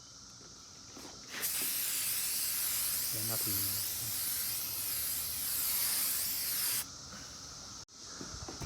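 An aerosol spray can laying clear coat onto a restored BMW E39 540i headlight gives a loud, steady hiss lasting about five seconds, with brief speech and handling noise before and after.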